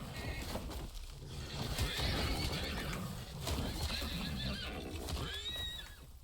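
A horse in the Rust survival video game neighs and whinnies several times over a dense, loud bed of game noise, with faint hoof clip-clop mixed in throughout.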